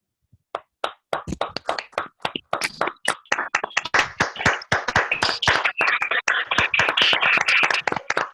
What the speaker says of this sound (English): People, please unmute yourself and give her a thunderous applause.